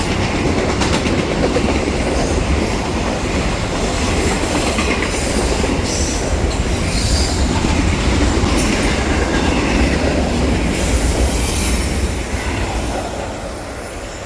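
A loud freight train rumbles past continuously, steel wheels clattering and faint squeals riding over the heavy roar throughout.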